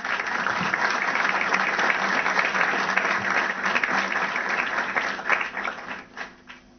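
Audience applause after an engineering talk at a conference, a long, even burst of many hands clapping that holds steady before thinning and fading out at the end.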